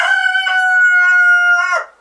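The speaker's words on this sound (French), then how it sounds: "j'ai un coq qui est de bonne humeur ce matin" A rooster in a chick brooder room lets out one loud, close crow that holds a steady ringing tone before breaking off sharply at the end, with no talk.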